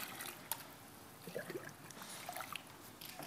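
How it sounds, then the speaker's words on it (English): Filthy water laced with faeces swirling and trickling as it is stirred in a jug, a faint, close, irregular sloshing with small splashes and drips. "Let's just stir that up a little bit."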